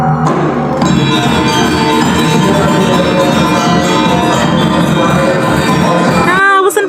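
A gong strikes at a Balinese Bulan Bahasa Bali opening ceremony in Tabanan, its loud metallic ring sustaining for several seconds with dense shimmering overtones amid crowd noise, then cutting off abruptly.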